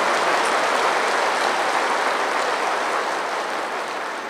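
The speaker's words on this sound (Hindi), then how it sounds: "भले जोर से ताली बजाओ" A spiritual gathering's audience claps hard and steadily in a thick, continuous wash of applause that eases slightly toward the end, with no voices on top.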